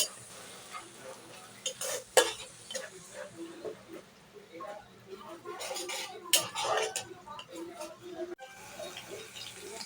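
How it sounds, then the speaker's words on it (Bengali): Ginger-garlic paste frying in a pan for chicken biryani, stirred with a utensil: a soft steady sizzle under scraping stir strokes and a few sharper clinks of metal against the pan, close and moderately loud. "আদা রসুনটাকে ভালো করে ভেজে নেব, যাতে কাঁচা কাঁচা গন্ধ না থাকে।"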